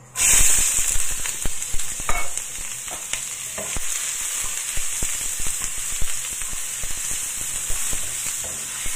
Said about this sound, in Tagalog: i-fry muna natin yung onion